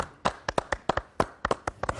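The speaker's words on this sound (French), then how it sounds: "Et on va l'applaudir." On an Algerian television studio show, a small group claps quietly and unevenly, the light claps spread out over two seconds with no talking.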